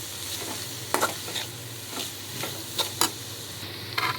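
Dried fish sautéing in a pan, a soft steady sizzle with intermittent scraping clicks of a spoon stirring, close and fairly quiet.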